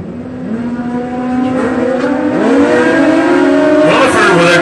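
A turbo Pro drag-racing motorcycle blasts down the lane at a drag strip, its engine pitch rising in rapid stepped shifts with a loud, close roar, a crowd-noise wash and announcer-style talk over it.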